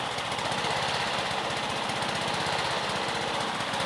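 A Honda Harmony II HRT216 Quadra Cut push lawn mower engine idles at its lowest setting, a close, steady, rapid chugging putter that holds even without surging.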